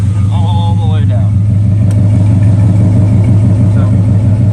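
Junkyard engine in a truck with true dual exhaust and twin mufflers, idling steadily with a deep, loud, rhythmic burble throughout, close by, with a short high whine early on.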